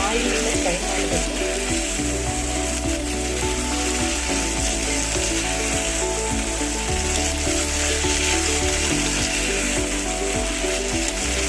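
Field beans sizzle steadily in hot oil, a dense continuous frying hiss with a low hum beneath and faint clicks scattered throughout.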